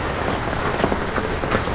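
A constant, loud wash of heavy rainfall with strong wind during the rainy season in Talisay, Batangas, hissing without pause, with faint pattering detail over the steady noise.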